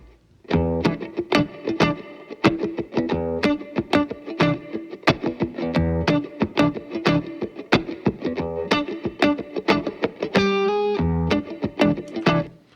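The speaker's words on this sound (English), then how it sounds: "This is recorded, I do believe, a Strat style guitar into a Class A tube amp." A Strat-style electric guitar played through a Class A tube amp carries a funky, rhythmic part of choppy strummed chords and short stabs, loud and close with effects colouring the tone and no voices.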